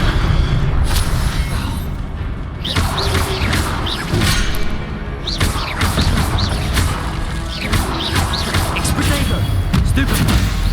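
Confringo spell explosions and combat effects from Hogwarts Legacy come as repeated booming blasts and crashes over a dense, loud battle mix, several impacts landing one after another.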